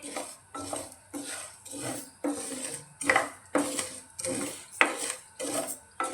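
Dry spices for mango pickle roast in a metal pan as a spoon stirs them, making a regular rhythm of metallic scrapes and clinks roughly every half second, close by and without talk.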